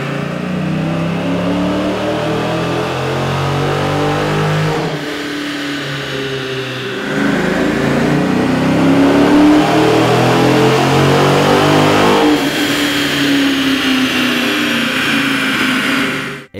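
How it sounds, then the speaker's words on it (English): A Dodge Challenger or Charger Hemi V8 with an aftermarket air intake revving hard and steady on a dyno, droning through several rising and falling passes, loud and close with no talking. "Here's a comparison of the vehicle sound on the dyno with the stock OEM system versus AEM's air intake"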